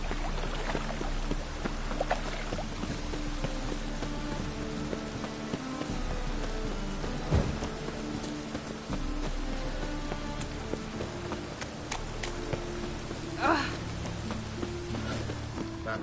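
Steady rain falls in the city of Novigrad in the video game The Witcher 3, a continuous hiss of drops on surfaces with a few faint splashes and knocks in the background, and no voices.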